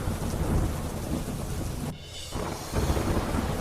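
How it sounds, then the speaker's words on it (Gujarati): Torrential rain driven by strong wind sweeps the Amreli area of Gujarat, a loud, unbroken hiss of falling water with a brief dip partway through, no people talking. "ભારે પવન સાથે અનેક વિસ્તારોમાં ધોધમાર વરસાદ પડ્યો"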